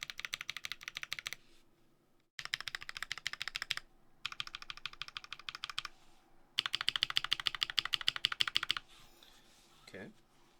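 A GMMK Pro keyboard fitted with swapped Glorious Lynx switches is typed on in rapid close bursts of clacky keystrokes, with short pauses between runs and a brief voice near the end.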